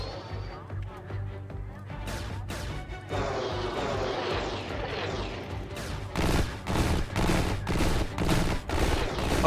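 Bursts of heavy gunfire in the video game Xenonauts 2, first scattered and sharp, then a rapid rhythmic volley of loud booming shots, with a voice faintly underneath.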